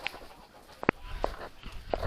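A few soft, scattered clucks from chickens, sparse and fairly quiet, with low background noise between them.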